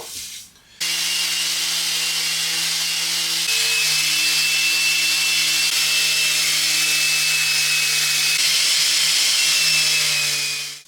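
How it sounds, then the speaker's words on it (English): A power sander runs steadily against a wooden furniture piece, a continuous loud whir with a slight pitch shift partway through, starting after a brief pause. "So I'm going to give this a sand over now."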